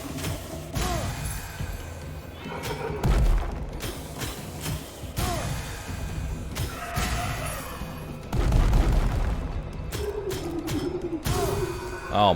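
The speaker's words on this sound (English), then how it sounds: "Okay, those explosions are scary." Video game explosions boom and crash repeatedly in a dense, loud barrage of blasts and impacts with no talking.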